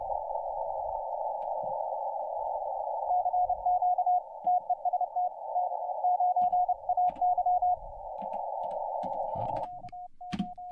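A single steady Morse code CW tone on the 160 m amateur band: long unbroken stretches, then quick keyed dots and dashes with characters run closely together, heard alone with faint background noise.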